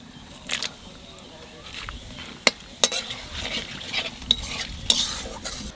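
Cumin, bay leaf, cloves, cinnamon and cardamom sizzle in hot oil for a Bengali katla fish curry, a low steady crackle broken by several sharp spoon scrapes and clinks against the pan, close and fairly quiet.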